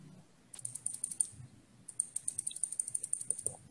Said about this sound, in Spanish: Es una máquina de escribir que tienes ahí. Sí, hombre, suena